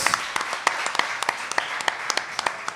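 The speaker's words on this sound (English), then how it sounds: "big round of applause for our first contestant, Dillon Elliott" An audience at a live pie-making contest finale claps for a contestant, with a brief, fairly close burst of applause and sharp individual claps standing out over the crowd for a few seconds.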